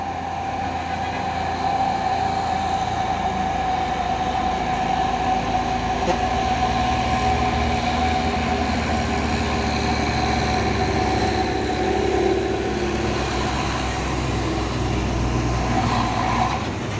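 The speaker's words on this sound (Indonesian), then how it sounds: "Ini juga ada truk trailer Isoteng Isuzu Giga." A large Isuzu Giga trailer truck rolls past on the road, giving a steady, loud engine drone and a broad rumble that holds evenly for the whole stretch, with no voices.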